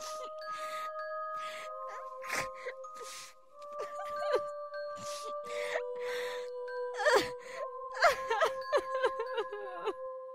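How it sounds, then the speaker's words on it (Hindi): A woman's drawn-out wailing cry echoes through an eerie horror setting, rising and falling across several seconds over sustained chiming, bell-like tones. "किसी औरत के रोने की आवाज आने लगती है।"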